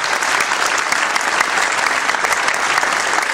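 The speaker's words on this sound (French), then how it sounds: "Je vais les applaudir." Applause from a crowd at a celebration for a sports team, dense and steady clapping throughout, loud and close, with no break.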